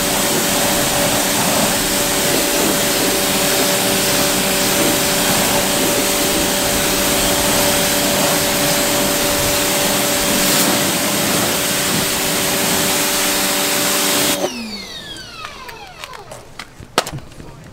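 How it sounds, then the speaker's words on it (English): A pressure washer blasts a loud, steady hissing spray for about fourteen seconds over a constant motor drone, then cuts off abruptly and leaves quieter clatter. "Better pressure washer."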